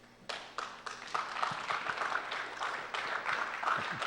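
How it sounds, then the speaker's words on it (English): A lecture audience applauds a talk on the psychological aspects of 9/11 with scattered, moderately distant clapping from a modest crowd. It builds after a brief quiet start, then continues unevenly as individual claps stand out. "I'm very happy to hear that applause."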